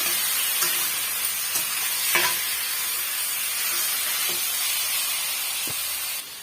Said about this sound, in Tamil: இப்போ நம்ம சேர்த்துருக்க வெங்காயத்தோடு இதை நம்ம மிக்ஸ் பண்ணி விட்டுக்கலாம்